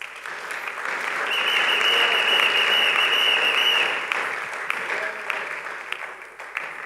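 A church congregation applauding during a Sunday service. The clapping swells into a loud, dense burst that holds for a few seconds, then fades into scattered claps, with some voices underneath.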